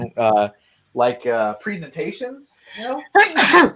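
A sharp sneeze bursts out at the end of a casual conversation about building sets, loud and close after several seconds of talking.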